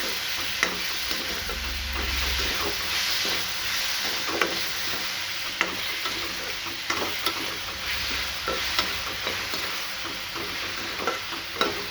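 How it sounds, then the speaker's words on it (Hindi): A spoon stirs turmeric, salt, sugar and other spices into raw mango sambharo in a pan, a soft continuous sizzle punctuated by regular light scrapes and taps against the metal. "उसके बाद हम ये सारे मसाले को एक अच्छी तरह से हिला देंगे।"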